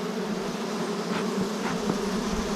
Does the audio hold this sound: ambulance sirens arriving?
no